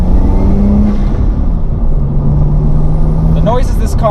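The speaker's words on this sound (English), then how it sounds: "Turbo spool." A 1990 Nissan Skyline R32 GTST driving under steady load, its engine drone joined by a rising whistle of turbo spool; loud and close throughout, with a brief chirp near the end.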